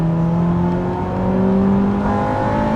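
A Honda Civic Type R EK9 with its 1.6-litre VTEC engine pulls hard in second gear, a loud, steady rising engine note with layered harmonics climbing in pitch, close and continuous with no talking.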